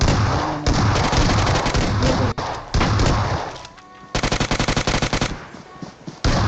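Rapid bursts of gunfire from a shotgun in the mobile battle-royale game PUBG Mobile, loud and dense, with a short lull before another string of fast repeated shots.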